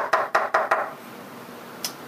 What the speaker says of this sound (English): If somebody comes by and gives a regular knock,